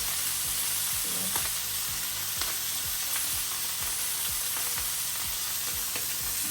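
Butter sizzles in a hot pan with a constant bright frying hiss, while a utensil scrapes and taps the pan in a regular rhythm underneath.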